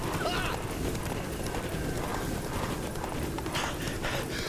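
Roach, a horse in the video game Witcher 3, gallops with steady clip-clop hoofbeats that run continuously and close, mixed with game sounds and voices talking over it.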